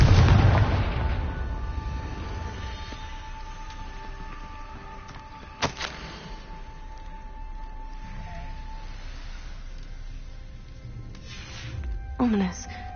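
A Confringo blasting spell goes off in a Harry Potter video game, with a loud explosive boom at the start. A sharp crack follows midway and a smaller burst near the end, over a steady game background.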